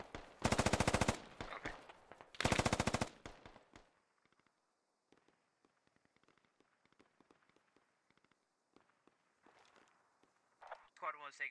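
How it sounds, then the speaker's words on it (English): Bursts of automatic gunfire from militia in the military shooter Squad, two loud sustained volleys up close followed by scattered distant shots and footsteps, with a brief voice near the end. "Looks like these militia are getting set up and ready to open fire on the two retreating squads here."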